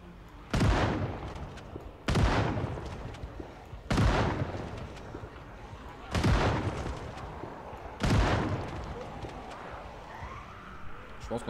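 Video game gunfire in Project Zomboid as the last of the ammunition is used up: five loud, evenly spaced single shots about two seconds apart, each with a booming tail fading into low background noise.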